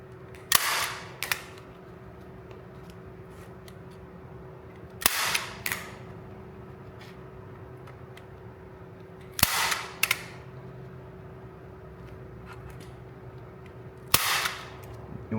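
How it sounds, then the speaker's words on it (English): A staple gun fires staples through canvas into a wooden stretcher frame, four sharp, loud snaps spaced roughly four seconds apart over a low, steady background hum. "I'll work my staples up, pulling and stapling all the way to that corner"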